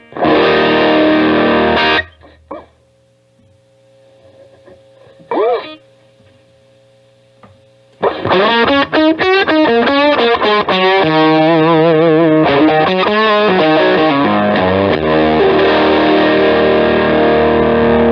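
Electric guitar driven through a JHS PG-14 overdrive pedal with guitar volume fully up, loud distorted chords and bends, a brief pause with a squealing bend, then a sustained aggressive overdriven riff.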